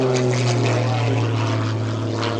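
Aerobatic airplane engine during spin recovery at an airshow, a loud steady propeller drone with a continuous low hum throughout, heard alone without talk.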